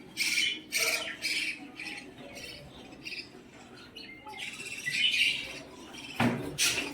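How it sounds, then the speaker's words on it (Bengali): Pet birds kept at home squawk and chirp loudly while feeding their chicks, with bursts of harsh calls and quick tweets overlapping in close, busy bouts. "দেখুন আমার কত পাখি"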